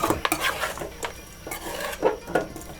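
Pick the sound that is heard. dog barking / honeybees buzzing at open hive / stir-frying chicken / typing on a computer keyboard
stir-frying chicken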